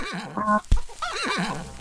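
Two wavering horse whinnies in the game Multicraft, separated by a sharp thump, sounding clean and synthetic like game audio.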